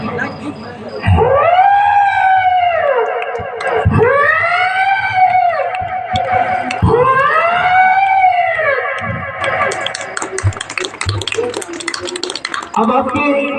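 A voice imitates an elephant's trumpeting during a children's comedy performance: three loud, rising-and-falling trumpet calls in a row, followed by a rougher noisy stretch.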